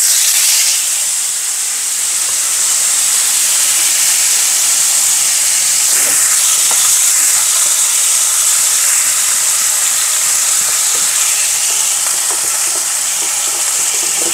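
Onions frying in a pan for chicken biryani give a loud, continuous bright sizzle and hiss, steady throughout with faint stirring clatter around the middle.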